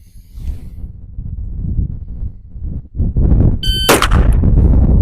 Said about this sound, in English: If we shoot on steel, it's very clear whether or not we had a hit